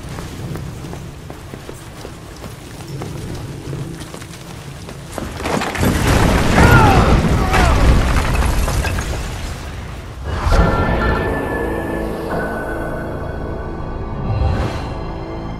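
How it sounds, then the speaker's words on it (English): Bombing explosions in Resident Evil 6 erupt as a loud, sustained rumbling blast that swells midway, followed by a second heavy burst and debris crackle, with a faint voice briefly under the noise. "Started bombing."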